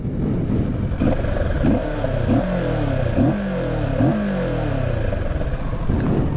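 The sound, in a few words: motorcycle engine revving, stock exhaust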